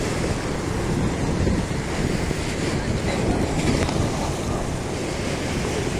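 Floodwater of the Krishna river rushing past in heavy flow, a steady broadband roar with wind buffeting the microphone throughout, close and loud with no pauses.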